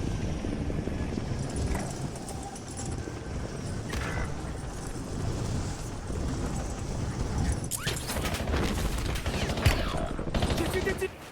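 Video game gunfire from a team shooter match, dense and continuous, with rapid bursts crackling over a steady loud battle din and occasional sharper volleys near the end.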